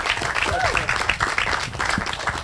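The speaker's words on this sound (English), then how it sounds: "and especially I'm asking to put your hands together for Josh." An audience at a joint press conference claps in a steady, dense round of applause, close and fairly loud, with a voice briefly audible underneath.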